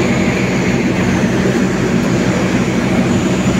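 The Argo Semeru passenger train at Solo Balapan station gives off a continuous loud, close rumble with a steady hum and no voices.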